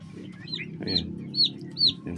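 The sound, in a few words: young chickens clucking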